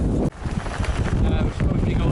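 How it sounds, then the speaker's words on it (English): Strong gusty wind buffets the microphone on an exposed hillside near Pen-y-Ghent on the Pennine Way, a loud continuous roar with a brief dip partway through. "It's windy as hell."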